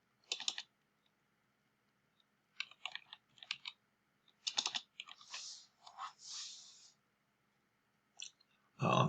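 Someone types on a computer keyboard in short bursts of quick clicking keystrokes, separated by pauses. The keys sound close and fairly quiet, and a louder knock comes at the end.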